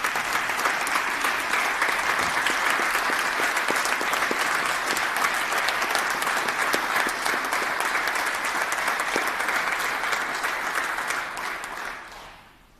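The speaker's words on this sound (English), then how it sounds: "So if you could please join me giving them a round of applause." Sustained applause filling a legislative chamber, dense and even clapping from a large crowd that holds steady before tapering off at the end.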